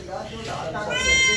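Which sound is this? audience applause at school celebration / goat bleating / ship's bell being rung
goat bleating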